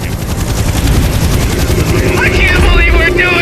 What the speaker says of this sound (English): do you hear some helicopters?